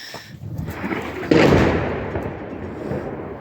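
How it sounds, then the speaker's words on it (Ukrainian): A single heavy distant boom like an artillery shell, rolling and slowly fading over a rumbling outdoor background. "стріляють у нас тут. Прям сьогодні щось розстрілялося"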